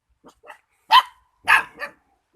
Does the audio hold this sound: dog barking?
yes